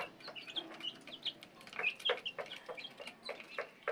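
Chicken and duck chicks about a week old peck at feed and give rapid high cheeps and peeps, many small chirps overlapping in an irregular stream, close and fairly faint.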